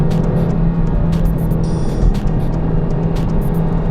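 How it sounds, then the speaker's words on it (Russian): An Audi TT RS engine drones loudly and steadily up close, with sharp crackling pops from the exhaust scattered over the rumble. "Отстрелы. Сочный, просто потрясающий звук."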